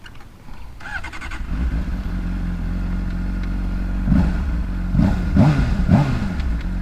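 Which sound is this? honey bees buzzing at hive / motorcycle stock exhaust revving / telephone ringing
motorcycle stock exhaust revving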